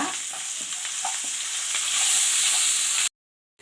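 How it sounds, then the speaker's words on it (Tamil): Rice stirred with spices, curry leaves and salt in a frying pan for kaara soru, a steady close scraping and sizzling that runs evenly before cutting off abruptly near the end. "இதெல்லாத்தையும் சேர்த்து நல்லா கிளறிக்கலாம்"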